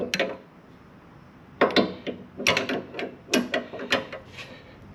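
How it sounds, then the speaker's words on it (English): A wrench turns a nut during maintenance on a lift, giving several quick clusters of metallic clicks and ratcheting scrapes at close range, separated by short pauses, with no talking. "best way to do it is to just get your wrench on your nut down here"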